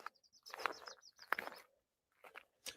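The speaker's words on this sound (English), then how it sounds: "I always like listening to the birds, like in different areas" Birds chirp and sing outdoors in short, scattered bursts of high calls separated by quiet gaps, moderately close against a faint background.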